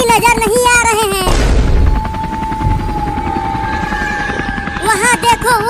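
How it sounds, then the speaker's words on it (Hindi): A helicopter in a comedy skit drones steadily with a choppy rotor beat and a sustained whine, loud and continuous, with voices talking at the start and end. "हेलीकॉप्टर तो बहुत ऊपर आ गया है।"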